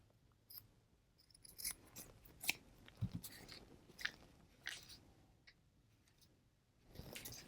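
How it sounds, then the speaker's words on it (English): Small scissors trim off little white threads, a few faint, close, scattered snips and clicks separated by quiet pauses. "If I could trim off these little white threads."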